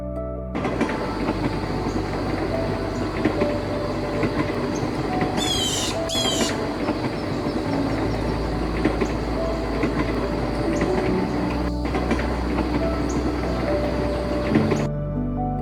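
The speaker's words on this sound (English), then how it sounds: "step aboard a train running along Alishan Forest Railway" A train on Taiwan's Alishan Forest Railway mountain line rumbles steadily with rhythmic wheel clatter and a low drone, a brief high metallic wheel squeal rising midway, the sound loud and close throughout.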